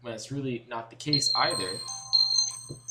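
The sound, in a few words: alarm going off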